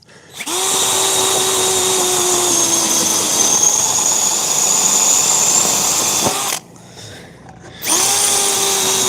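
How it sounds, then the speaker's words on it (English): A power drill drives screws into metal roofing, whining loudly and steadily for several seconds, then stopping briefly before spinning up again, close and harsh. "Man, they don't build drills like they used to."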